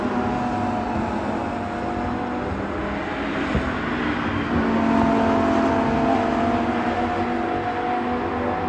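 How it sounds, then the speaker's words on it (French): Lamborghini Super Trofeo race cars lapping during a qualifying session, heard from a trackside spot as a steady, moderately distant engine drone with rising and falling revs, swelling slightly midway. "Petite course de qualif en Lamborghini Super Trofeo."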